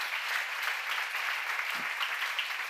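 Steady applause from a church seminar congregation, a dense even patter of clapping that holds at the same level throughout with no voices over it.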